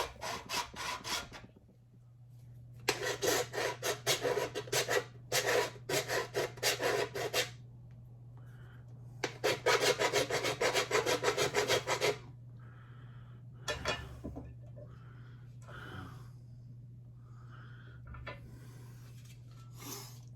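A silver-plated, tarnish-resistant thrift store item is filed to test the coating, giving bursts of rough, raspy scraping strokes in several runs with short pauses, over a steady low hum.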